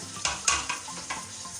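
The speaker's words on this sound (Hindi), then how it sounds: "अब डाल देंगे इसमें टमाटर" Four medium chopped tomatoes tip into a pot over a low flame for Karachi beef yakhni biryani, giving a few sharp splashing sizzles and spoon strokes against a steady frying hiss, close and fairly loud with no talk.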